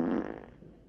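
A short, low flatulent fart rasps up close in a film scene, starting with a buzzy burst and trailing off quickly.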